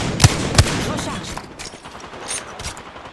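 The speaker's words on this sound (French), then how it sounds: "Ces andouilles me tirent dessus." Enemy gunfire in a shooter video game, with two sharp close shots followed by a softer, rattling burst of further shots and game noise in the background.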